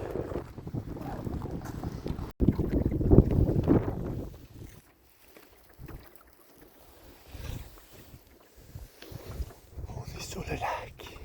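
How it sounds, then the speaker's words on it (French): Wind buffets the microphone while canoeing across a lake, strongest in the first four seconds as a loud rumbling gust, then easing to softer intermittent blowing with faint water and paddle sounds. "Quand même assez venteux."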